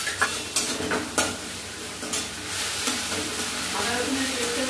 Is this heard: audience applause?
no